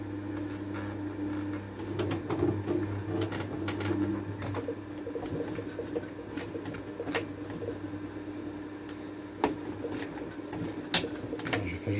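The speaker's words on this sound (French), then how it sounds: "Juste un point en arrière, ça suffit." An upholstery sewing machine stitches the border of a carpet car floor mat, making quiet, fast repetitive mechanical clicking with short irregular ticks over a steady low hum.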